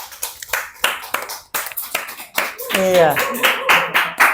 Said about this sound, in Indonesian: Tepuk tangan luar biasa sekali ini.